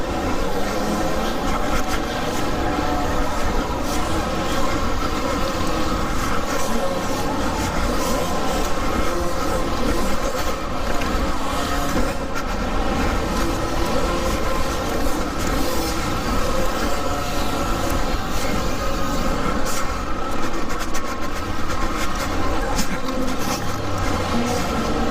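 Segway X160 electric dirt bike ridden around an indoor dirt track, giving a steady, close, unbroken rush of motor whine, drivetrain and rolling noise at constant loudness with no voices.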